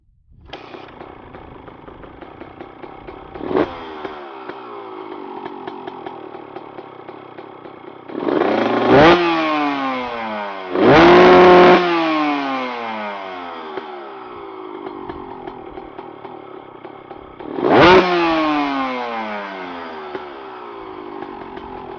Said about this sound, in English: start up the bike to burn off any water that may be on the exhaust or electronics